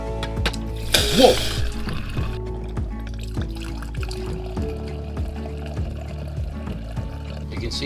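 Water rushes and pours through a newly installed RV water filter, a brief loud gush near the start settling into a steady trickling flow with faint clicks and rattles.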